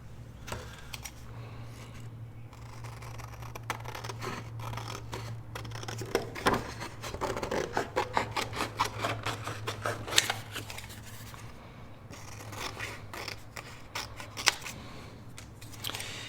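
Printed vellum paper being cut with scissors while making a tri-fold envelope pocket: a steady run of close, crisp snipping and slicing strokes over a low hum, alone with no talk.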